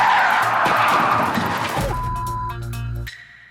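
A car brakes hard and its tires skid, a loud broad screech that fades into the engine's low idle hum before cutting off, close and alone.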